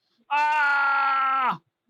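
Warriors scream as a snowy mountainside collapses on them in an avalanche; a single long, loud, wailing human cry holds steady for over a second before breaking off, close and alone.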